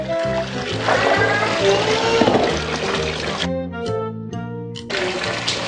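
Beef tripe being rinsed under a running kitchen tap: steady splashing, trickling water runs throughout, briefly thinning midway before gushing again, with a rhythmic low background beneath it.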